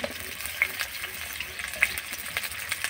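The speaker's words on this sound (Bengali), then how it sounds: "তেলের মধ্যে আলুগুলোকে সব দিয়ে দিলাম।" Potatoes frying in hot oil in a pan, a steady soft sizzle with occasional small pops and crackles, close and continuous with no talking.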